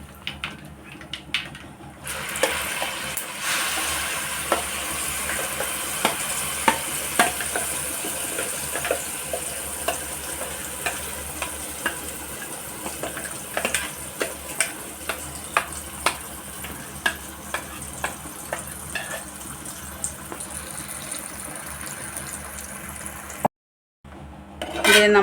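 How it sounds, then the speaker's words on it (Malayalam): Tomato paste and asafoetida frying in oil for a tomato pickle, a steady close sizzle with scraping stirs and occasional clicks, cut by a brief silence near the end. "ഇപ്പോൾ ഈ എണ്ണയ്ക്കകത്തോട്ട് അര ടീസ്പൂൺ കായപ്പൊടി, പിന്നെ നമ്മൾ അരച്ച് വെച്ച ഈ ടൊമാറ്റോ പേസ്റ്റ് ഇതിലോട്ട് ഇടുക."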